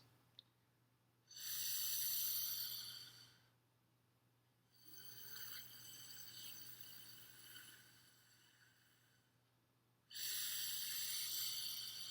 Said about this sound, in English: breathe in and out through the straw as slowly and as deeply as you can